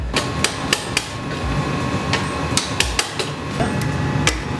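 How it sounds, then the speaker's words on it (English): Close, sharp metallic hammer blows drive a bolt out of a Kawasaki Z125 Pro motorcycle frame, about a dozen strikes landing in an uneven rhythm over a low background hum. "So what I gotta do now is pound it out from the other side."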